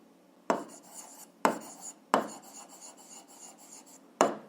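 A math solution is written out by hand for a 7th-grade algebra exercise, several scratchy bursts of pen or chalk strokes separated by short pauses, close and fairly clear.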